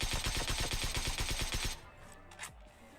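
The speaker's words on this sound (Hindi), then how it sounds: "अब इसके टीममेट के देखना कितना तगड़ा प्री फायर पड़ेगा।" Rapid gunfire erupts in a battle royale video game, a fast loud burst of evenly spaced shots for under two seconds before fading into quieter game ambience.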